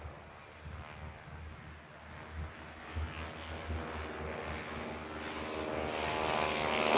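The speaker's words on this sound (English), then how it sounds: "And the 2 steermen now starting to take off rather than smoke on." Pair of Stearman biplanes take off at an airshow, their propeller engines building from a distant drone into a louder, rising roar, with wind noise and no talking.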